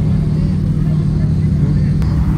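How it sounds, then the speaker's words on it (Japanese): Dodge Challenger 392 Hemi V8 at a car festival at Fuji, a loud, deep continuous engine rumble close by, steady throughout with a brief high tick near the end. "チャレンジャー。392ヘミ。"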